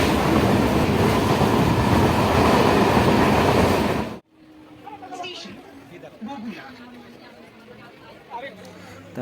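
A passenger train bound from Sealdah to Delhi gives a loud, dense rumble for about four seconds, then cuts abruptly to a much quieter interior with people talking and chattering.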